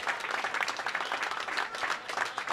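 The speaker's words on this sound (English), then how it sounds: "It's a well-deserved round of applause from competitors and spectators alike." Applause from competitors and spectators at a senior men's team bowling championship, a steady, fairly dense round of clapping in a bowling centre that holds evenly for a few seconds.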